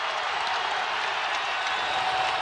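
A college basketball arena crowd during a Texas Tech versus Kansas State game cheers and applauds in a steady, dense roar of clapping and voices that holds at an even level.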